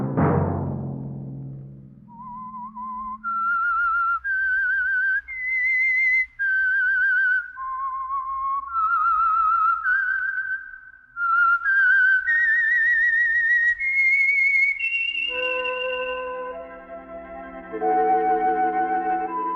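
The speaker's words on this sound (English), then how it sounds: "Let that whistle be your signal for the Signal Oil program, The Whistler" The whistled theme of The Whistler radio drama, a long solo melody of sliding, vibrato-laden notes rising and falling in clear phrases, loud and close, following a brief low musical tail and ending as orchestral chords join in.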